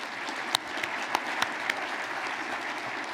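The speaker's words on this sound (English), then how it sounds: "Would you please give another round of applause to Shelley and everyone there at Goodwill?" Audience applause at a regional chamber annual meeting, a steady, moderately distant wash of many hands clapping with a few sharper claps standing out, and no talking over it.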